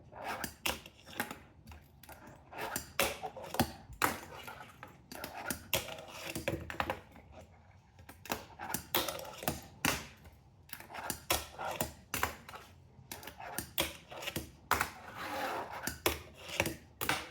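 Fingerboard tricks, including a kickflip nose grind, performed on a small board: a steady run of sharp, close clicks and clacks of tiny wheels and deck striking and scraping, with brief rolling rasps between hits and no talk.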